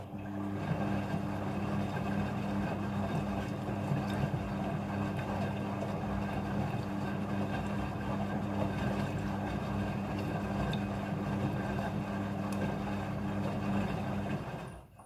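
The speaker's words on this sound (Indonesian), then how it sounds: "Pada proses pembilasan dengan air, mesin cuci akan mengatur jumlah kebutuhan air secara otomatis." A Midea front-loading washing machine rinses jeans with water, giving a steady low churning hum and watery rush that runs unbroken for the whole stretch, close by with no voices.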